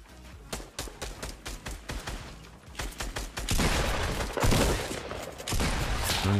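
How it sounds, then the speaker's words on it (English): Gunfire in the Fortnite video game, with rapid bursts of shots at first and then heavier, sustained volleys mixed with noisy action, loud and with no talk. "I'm getting shot from the hill above"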